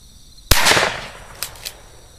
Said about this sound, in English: Just shoot it.